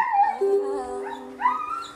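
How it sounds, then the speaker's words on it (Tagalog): A dog lets out a short series of high, wavering whimpers and a drawn-out howl, close by with no talking. "May aso."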